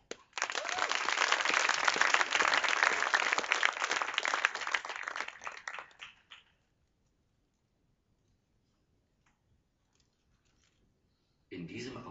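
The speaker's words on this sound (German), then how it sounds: "Een hartelijk applaus" Audience applause for a juggling performer at a stage show, a dense burst of clapping for about six seconds that cuts off abruptly, followed by near silence and then a brief return of sound at the end.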